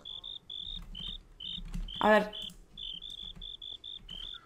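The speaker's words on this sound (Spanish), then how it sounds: "Hay un grillo ahí andando por saco muy mucho." A cricket chirps in the Minecraft video game, a regular series of short, high, close chirps repeating steadily, briefly interrupted by a short spoken phrase.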